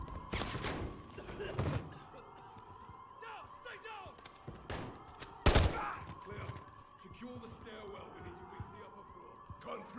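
Gunfire in the Call of Duty: Modern Warfare 3 campaign, several loud sharp shots in an irregular sequence over a bed of game ambience, with someone talking over it.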